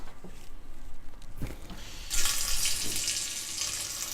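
Tap water runs into a ball lock keg during cleaning, a steady hiss that swells into a loud, bright, splashing rush partway through, close by with occasional knocks.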